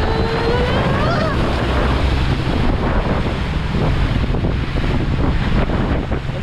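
Strong ocean waves at sea surge and crash around a small fishing boat, a loud continuous rushing wash with heavy wind buffeting the microphone, no clear talk.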